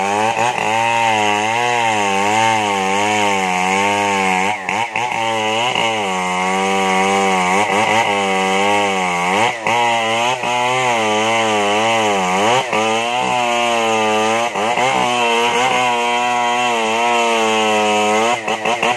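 Chainsaw cutting down a merbau tree in the forest, engine held at full throttle and roaring loud and close, with repeated dips and surges in pitch as the chain bogs in the wood, no talk.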